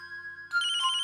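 A phone rings with a bright, repeating electronic ringtone that starts midway and pulses rapidly, close and clear over a faint background hum.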